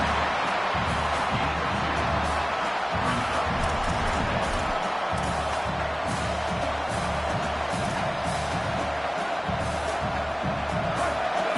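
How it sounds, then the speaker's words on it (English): A loud, roaring stadium crowd fills the air at a Washington at Clemson college football game, a dense sustained din of cheering and yelling that never lets up, with a commentator's voice audible beneath it. "listen to this crowd noise. This stadium is vibrating."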